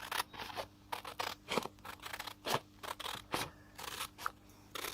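Scissors cutting out a lino print, a series of close, crisp snips spaced irregularly about every half second, quiet and alone with no talk.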